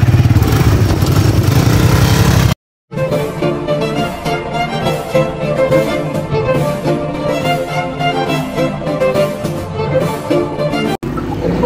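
Honda 70 and Honda 125 motorcycles riding on the way to go fishing. A steady, close engine drone with pulsing, rhythmic tones continues after a brief dropout, with no talking.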